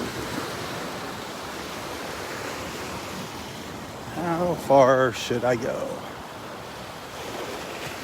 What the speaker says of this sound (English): I don't want to get soaked by the waves